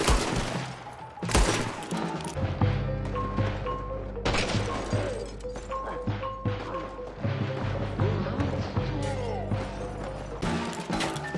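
Rapid gunfire from a Red Dead Redemption 2 shootout, loud and sustained with repeated sharp cracks and crashes over about eleven seconds, mixed with game music and brief voices.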